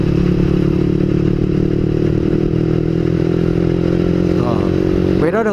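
A Yamaha R15 sport motorcycle riding along on a Sunday ride, its engine droning loud and steady with heavy wind rumble, a brief rising whine near the end.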